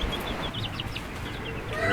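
Little chickens giving quick, high, chirpy clucks in short bursts close by, over a low rustling background.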